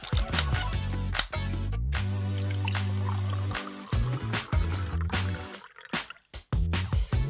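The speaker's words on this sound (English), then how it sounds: "I'll use this bowl. Then pour the soda in." Soda is poured into a bowl, a steady fizzy liquid trickle with drips and some clattering handling noise, close and fairly loud.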